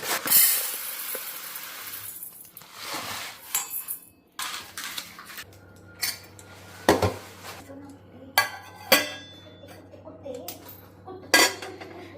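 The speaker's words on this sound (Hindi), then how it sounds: "ये सारे भगवान जी के बर्तन हैं।" Metal puja utensils and pots clatter and clink close by during Shivaratri preparations at home, a run of sharp scattered knocks and scrapes with quiet gaps and a faint steady hum behind.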